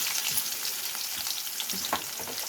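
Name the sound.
mustard seeds and garlic frying in oil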